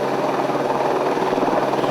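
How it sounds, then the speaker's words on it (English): A medium lift helicopter hovers close by while delivering a drill base for powerline work in Alaska, its rotor producing a steady, loud, pulsing throb that fills the whole short stretch. "A medium lift helicopter brings in the drill base itself"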